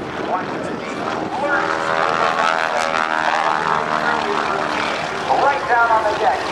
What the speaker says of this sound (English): He's doing a beautiful barrel roll, coordinating throttle, elevator, ailerons, and rudder to start and stop at the same altitude and airspeed.